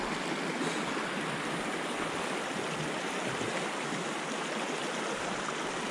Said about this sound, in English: Okay, so the creek is definitely mellowed.